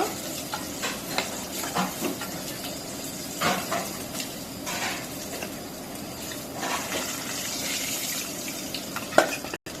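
Pieces of pangas fish fry in hot oil in a kitchen pan, giving a steady crackling sizzle with brief louder spits and stirring bursts, heard close with no talking.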